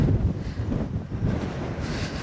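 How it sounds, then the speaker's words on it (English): Strong, blustery wind at Lochindorb, a Highland loch, buffets the microphone in a continuous, heavy roar that surges and dips, with no voices. "very windy,"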